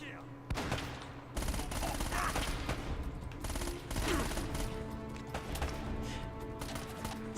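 Rapid gunfire and explosions from the video game Uncharted fill the whole stretch as loud, dense bursts that overlap with a steady backdrop of combat noise.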